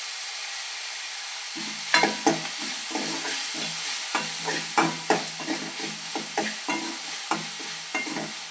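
Onions and tomatoes sizzle steadily in a hot pan while a utensil scrapes and stirs them in irregular bursts, with a constant frying hiss underneath.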